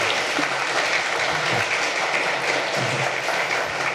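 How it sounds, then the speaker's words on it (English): Conference audience clapping after a talk on cryptocurrency security, a thick, even wash of applause from many people throughout, with a few faint voices beneath. "So please applause for this great guy as well."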